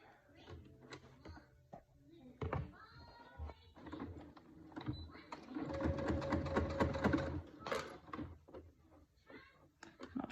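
A sewing machine runs a line of topstitching beneath a 9-inch zipper on a fabric bag, a steady close mechanical chatter that builds in the middle, with rustling fabric and handling clicks around it.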